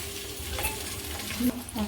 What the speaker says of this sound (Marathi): आता एक दोन मिनटाला आपण चांगला फ्राय करून घेऊया